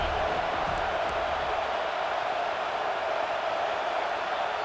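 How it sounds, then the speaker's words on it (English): A stadium crowd in the College Football 26 video game sends up a steady, dense roar of cheering that holds at an even level throughout with no breaks. "Fourth down, and this crowd trying to help this defense rise to the occasion."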